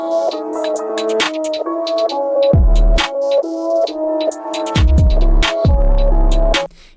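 A MIDI-played synth bass line with 808-style low notes throbs under sustained, stepping chord tones, the deep bass booming in several long bursts before cutting off near the end.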